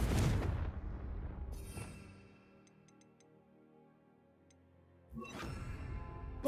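A Confringo spell in Hogwarts Legacy goes off with a loud burst, fades into a quiet stretch with a few faint ticks, then a second sharp blast hits near the end.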